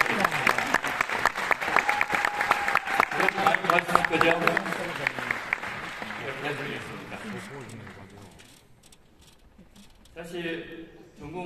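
Audience at the closing ceremony of the Korea Dance Festival 2023 claps loudly and steadily, the applause fading out after about eight seconds before a voice resumes speaking.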